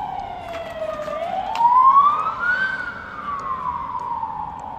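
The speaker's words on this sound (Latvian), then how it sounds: "tās sirēnas atkal kļūst tuvākas. Nē, tie ir ātrie. Bet pirms tam bija policija." Emergency vehicle siren, police and ambulance, wailing in a slow rising and falling sweep, loud and fairly close over a low traffic rumble, with no talk.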